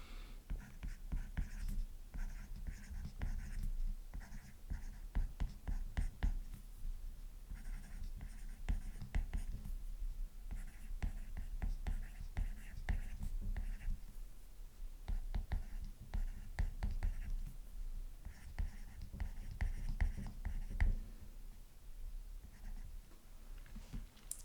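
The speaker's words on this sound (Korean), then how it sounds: "그러면 이거 한번 써볼게요." A pen writes an answer by hand on paper, continuous close scratching strokes in bursts with short pauses, quiet and alone.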